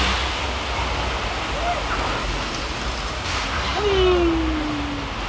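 Thousands of gallons of recycled water cascade down a hill in a theme-park flash flood effect at Universal Studios Hollywood, a loud, steady rushing roar with a brief whistle-like tone near the end.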